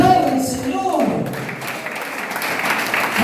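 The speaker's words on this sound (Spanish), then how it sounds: "Aplaudan al Señor." A church congregation breaks into applause after a voice finishes speaking, the dense clapping rising and holding steady at a moderate, roomy distance.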